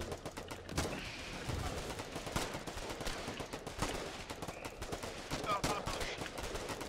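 Gunfire from a Foxhole war video game battle, with rapid repeated shots and bursts cracking through the whole stretch over a busy, noisy combat background.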